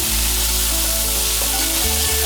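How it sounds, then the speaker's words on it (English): Two bunches of finely chopped mint leaves frying briefly in a pan while making tomato rice, producing a loud, dense sizzle with steady tonal sounds running beneath it. "2 bunches of finely chopped mint leaves. Just fry it a little."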